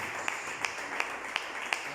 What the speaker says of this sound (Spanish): Denle un fuerte aplauso en este día.